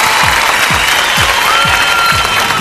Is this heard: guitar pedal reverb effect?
no